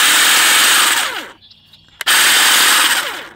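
Dewalt 20V battery-powered brushless hedge trimmer running close by in two loud bursts of steady motorized buzzing, separated by a brief near-silent pause with a short click.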